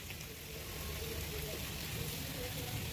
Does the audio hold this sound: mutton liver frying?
yes